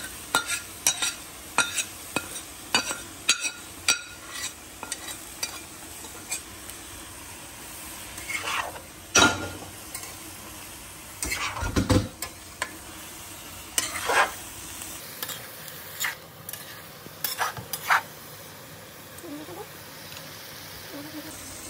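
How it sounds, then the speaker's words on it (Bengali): Pre-fried prawns tossed into a pan for mulo chingri posto, a steady sizzle under repeated sharp scrapes and clacks of a spatula stirring, close and fairly loud throughout. "ভেজে রাখা চিংড়ি মাছগুলো দিয়ে দিচ্ছে।"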